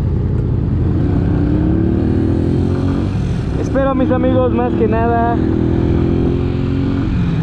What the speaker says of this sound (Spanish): pues disfruten un poco la conducción de esta motocicleta